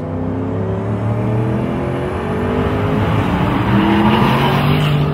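A Noble M600 turbocharged car with 650 horsepower in race mode, its engine roaring loud and steady throughout, swelling slightly toward the end with no one speaking.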